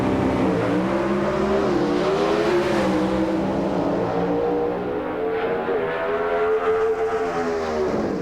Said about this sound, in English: They're talking to each other with the throttles.